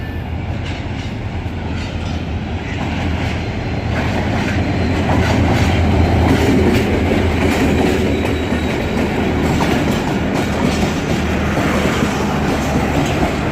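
The Sir Syed Express passenger train in Karachi rumbles past steadily for over ten seconds, wheels clattering over the rails in a continuous loud roar with no voices.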